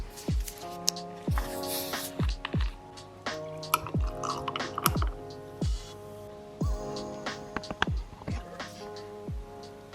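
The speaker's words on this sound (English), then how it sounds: "Let's pour a glass of kombucha while we clean." Raspberry kombucha poured into a glass, a fizzy stream broken into quick repeated glugs and drips with bubbly splashes, close and fairly loud, with brief spoken remarks between pours.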